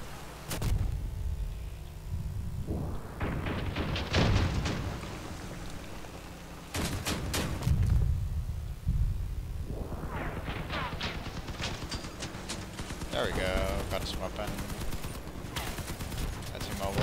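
Heavy gunfire from vehicle weapons in the car-combat game Crossout, aimed at an enemy's wheels: long rumbling bursts with sharp cracking volleys between them, loud and continuous, while a player talks.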